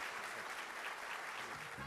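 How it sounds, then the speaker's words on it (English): An audience applauds Steve Wozniak at a startup fireside chat, giving a steady wash of clapping that sounds somewhat distant, with a faint voice at the end. "So a round of applause for Steve Wozniak, everyone."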